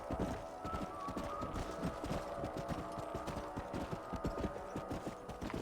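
Horses gallop in Red Dead Redemption as a herd is driven toward a canyon, a dense rapid clip-clop of many hooves throughout, with a faint whinny and low hum under it.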